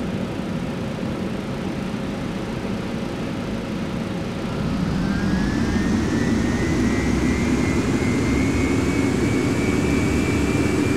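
Jet engines of a Boeing 737 Classic spooling up to takeoff thrust, a steady roar that swells midway as a rising whine climbs in pitch and then holds, loud and continuous with no talk.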